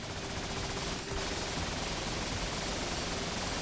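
A laser gatling gun fires nonstop in the video game Risk of Rain Returns, a dense, rapid rattling stream of shots that stays loud and even throughout, alone without talk.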